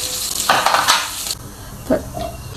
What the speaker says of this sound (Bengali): এই অয়েলের মধ্যেই আমি আলুগুলি ফ্রাই করে নিচ্ছি।